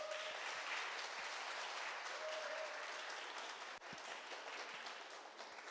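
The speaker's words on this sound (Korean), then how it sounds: "다시 한번 큰 박수 부탁드립니다" Sustained applause from a sizable crowd at the 30th Lee Hae-rang Theatre Award ceremony, steady and dense throughout, fading slightly toward the end.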